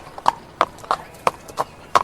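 Hooves of a horse pulling a cab clip-clop in a steady, even rhythm, about three sharp knocks per second, close by and crisp.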